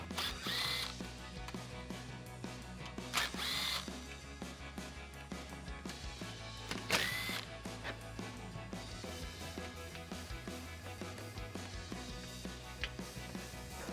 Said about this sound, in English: I'm going to use a combination of a clip removal tool and a 7mm socket on my impact to remove the 4 screws